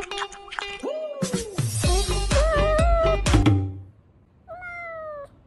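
A young cat gives several clear meows in a row, bright and fairly close, with a short pause before one final, higher meow.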